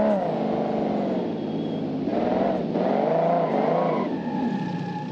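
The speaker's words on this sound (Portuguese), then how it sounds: "E o motor tá aguentando, hein?" A modded Toyota Supra engine in BeamNG.Drive revving up and down, with a tonal whine that climbs, dips and surges repeatedly, loud and close, with no talk over it.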